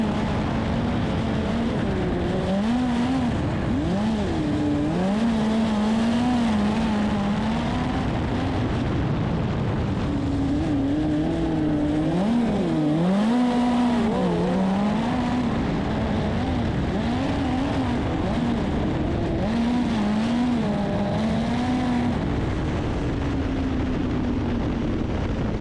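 An Xtreme midget race car roars around a dirt track, its engine rising and falling in pitch as it accelerates and lifts through the turns, loud and continuous with no speech.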